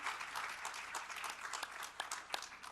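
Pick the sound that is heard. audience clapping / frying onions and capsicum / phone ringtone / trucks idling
audience clapping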